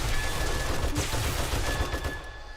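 Automated turrets fire continuously in the survival video game 7 Days to Die, a dense unbroken rattle of rapid gunfire from several guns at once, loud and sustained, fading slightly at the end.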